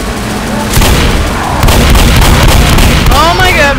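Loud, dense gunfire from Left 4 Dead booms and crackles in a continuous volley with heavy low rumble, while players' voices come through over the shooting.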